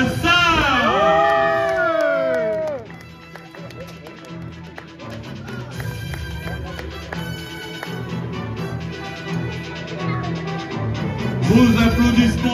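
Crowd at the French U23 athletics championships applauding and cheering the men's 100 m podium, a broad wash of clapping and shouts that builds again near the end, after a voice that rings out at the start.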